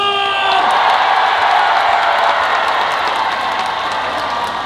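A festival crowd at the Danyang Sobaeksan Royal Azalea Festival bursts into loud, sustained applause mixed with whoops and cheers, a thick continuous roar after a brief tonal note at the start.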